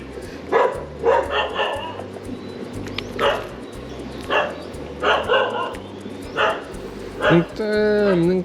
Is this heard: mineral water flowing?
no